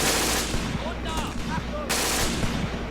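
Gunfire crackles through the Graviteam Tactics war game as scattered shots and short bursts pop over a steady battle rumble, moderately loud, while someone talks quietly over it.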